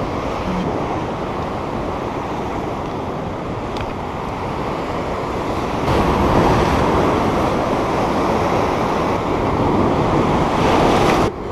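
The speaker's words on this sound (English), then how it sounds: "Get away from the breaking waves." Waves break against a rock wall at a fishing spot, a loud continuous roar of surf and wash that swells stronger halfway through, with wind buffeting the microphone and no voices.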